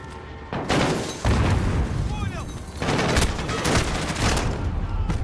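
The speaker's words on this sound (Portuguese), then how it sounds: "Granada, vazem!" In the Call of Duty: Modern Warfare (2019) video game on realistic difficulty, a loud grenade blast is followed by sustained, overlapping bursts of close gunfire and booms, with in-game voices mixed in.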